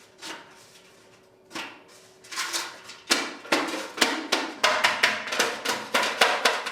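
Hammer blows on a copper cauldron as its rim is folded over a reinforcing iron hoop by hand, sharp metallic strikes starting sparse and quickening into a steady rapid rhythm, close and fairly loud.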